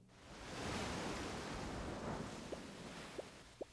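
A large sea shell held to the ear gives a steady, soft whooshing hiss like distant wind or surf, continuous throughout, with a few faint clicks near the end.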